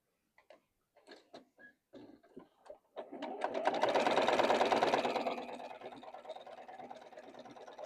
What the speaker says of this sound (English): we're going to sew our top and our bottom pieces on